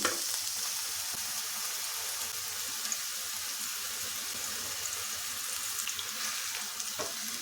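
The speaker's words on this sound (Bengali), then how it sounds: "ঘিটা গরম করে নেওয়ার পর আপেলটা এর মধ্যে ভেজে নিতে হবে আপেলটা দিয়ে দিচ্ছি" Steady crackling sizzle of apple frying in hot ghee in a wok, continuous and close, with occasional small pops and clinks.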